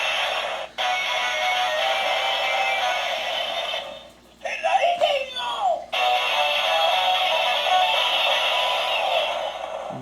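A DX Pteraiden-Oh toy plays an electronic sound effect from the button on its back, a steady bright tone lasting several seconds with a short break in the middle, loud and close with no talking.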